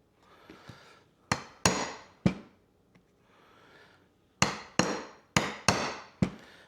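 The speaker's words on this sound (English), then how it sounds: "I've got a chisel here. I'm going to see if I can just chisel." A chisel struck against a lawn mower part: sharp, close metallic-wooden knocks, three spaced hits, a pause with faint handling, then a quicker run of five strikes, with no talking.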